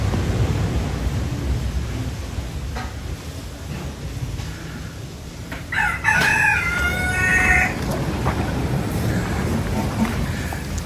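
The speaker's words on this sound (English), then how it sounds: "That's a rooster." A rooster crows once, moderately near, over steady outdoor hiss and murmur on a village trail near the beach at Las Animas, Mexico.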